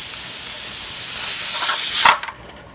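Steam hisses loudly and steadily from a pressure canner's regulator while yellow squash is canned, swelling around the middle and spurting in a brief burst near the end before dropping away.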